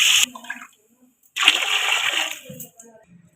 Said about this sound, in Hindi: ये 5 गिलास हम इसे पानी लगाने लगे हैं।